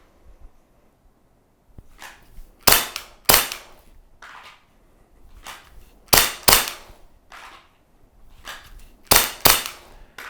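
Laser training handgun fitted with a recoil kit, fired in quick pairs of sharp cracking shots at home, separated by short pauses and softer mechanical clicks and handling noise.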